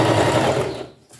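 A sewing machine runs a steady, loud motorized whir while stitching a fabric hem, then slows and stops near the end.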